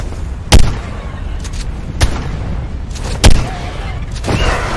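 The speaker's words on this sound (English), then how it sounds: "I knew that shotgun was going to pay off today." Shotgun blasts in Ark Survival Evolved Mobile, three sharp loud booms spaced about a second or more apart over a low background rumble of the game.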